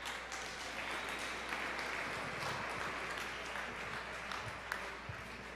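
Sustained applause from an audience at an innovation forum workshop in Mexico, a dense, steady patter of many hands lasting several seconds, heard from some distance at moderate level with no voices on top.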